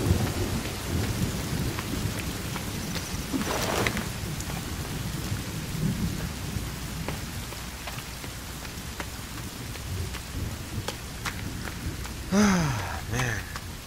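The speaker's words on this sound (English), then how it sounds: "And it just started raining." Steady rain pours throughout in the video game The Forest, with rolling thunder and a brief sharp crack near the end.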